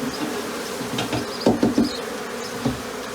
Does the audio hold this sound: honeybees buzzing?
yes